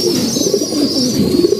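Khaki pigeons cooing nearby in a loft, a soft rolling low coo that swells and fades over a steady faint hiss, with no talking.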